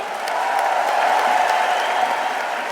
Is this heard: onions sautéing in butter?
no